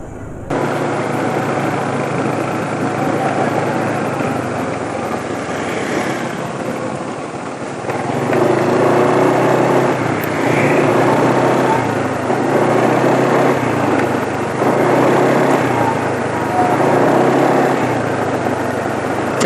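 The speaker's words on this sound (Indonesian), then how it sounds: "Jadi begini ya suara mesinnya ya." Motorcycle engine idling after a change to Eni 20W50 Super JASO MA2 oil, with a steady close rumbling hum that swells slightly in waves while someone talks over it.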